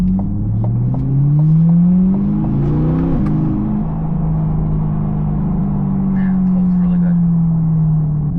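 A C8 Corvette engine revs up, its aftermarket exhaust note rising in pitch for a few seconds, then settling into a steady, deep drone that holds before easing slightly.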